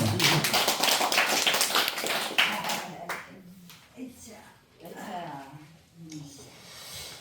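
An elderly congregation at a church gathering claps in a dense burst for about three seconds, then the applause thins out and a voice continues speaking.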